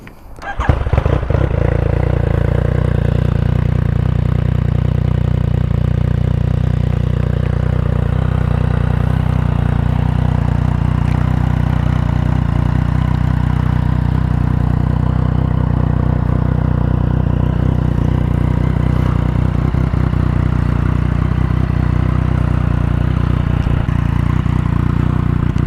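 A warm Yamaha MT-09 with a Black Widow 200mm aftermarket exhaust idles steadily after a start, a low, even engine drone holding throughout with no talk over it.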